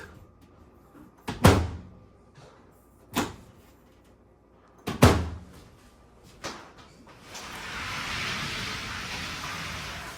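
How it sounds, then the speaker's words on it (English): Samsung microwave door being closed after a repair to its latch, several sharp clunks and clicks spaced a second or two apart, followed by a steady hiss. "And now you can close your door."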